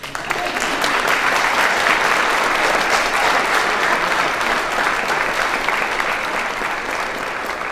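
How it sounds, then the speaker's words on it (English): Sustained audience applause at a school honors convocation, loud, dense and steady clapping from a large crowd over nearly eight seconds, with no talking. "You can go ahead and clap, audience."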